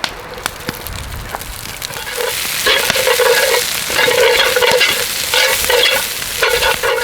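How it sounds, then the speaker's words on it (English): Onions caramelizing in a pan for chanterelle beef stroganoff give a steady, close sizzle. A spatula stirs and scrapes through it in repeated bursts, growing louder after the first few seconds. "we're gonna start caramelizing these onions"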